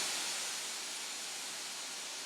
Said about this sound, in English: We got some water filling.